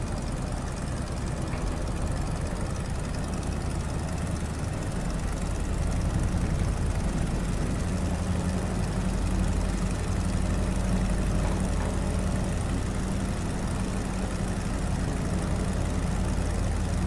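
A vintage propeller aeroplane's engine in Microsoft Flight Simulator 2020 drones steadily throughout, a continuous low, broadband roar at constant level with no talking.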